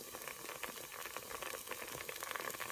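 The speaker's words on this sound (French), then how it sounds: "Ça bout, on laisse bouillir." Liquid sweetened with sugar and cardamom boiling in a pot, a faint, steady bubbling hiss with small continuous pops.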